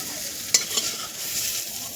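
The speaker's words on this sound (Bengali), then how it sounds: "এবারে আমার মা করছে বেগুনটা ভেজে নিচ্ছে" Eggplant fries in a wok with a close, steady sizzle, broken by a sharp scrape of a utensil and a softer clatter as the pieces are moved about.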